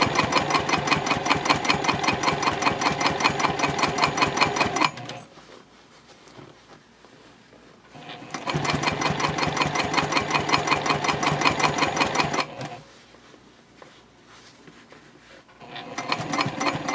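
A sewing machine stitches a bowler bag in rapid, even bursts: a loud mechanical run of about five seconds, a pause of about three seconds, another run of about four seconds, a pause, then a third run that starts.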